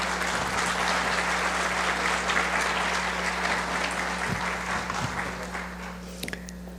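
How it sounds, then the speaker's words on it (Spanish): An audience gives a strong round of applause to a speaker after a lecture, many hands clapping steadily and fairly loudly, then thinning toward the end, with a low electrical hum underneath. "fuerte, fuerte aplauso."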